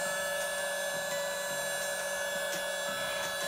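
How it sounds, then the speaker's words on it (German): A Disney Frozen toy hair dryer whirs steadily up close, a thin motor drone with a high whine that holds the whole time, along with faint clicks and handling sounds. "So, dann lass uns doch mal deine Haare föhnen."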